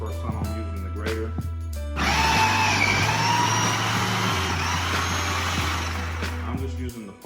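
Food processor with a grater attachment running in one continuous, loud whirring motor drone lasting about five seconds, starting and stopping abruptly amid close handling clatter.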